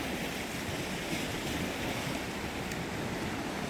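Ocean waves make a continuous soft wash of surf, even and unbroken, fairly quiet with some wind noise and no talk.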